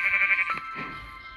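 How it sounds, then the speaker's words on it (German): Sheep bleating in the video game Minecraft: a single drawn-out bleat with a wavering, nasal tone, close and clear over quiet game ambience, with no talk. "wir haben schon mal 1 Schaf."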